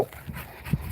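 A six-month-old pit bull puppy panting softly up close in a short burst of quick breaths.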